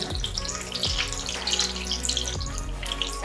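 Chicken pakoda pieces frying in hot oil give a steady, close, bubbling sizzle with soft crackles and a few low thumps, with no voices.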